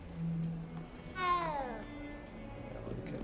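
A cat in the video game Hogwarts Legacy gives a single drawn-out meow, clear and fairly close, over a low background game ambience.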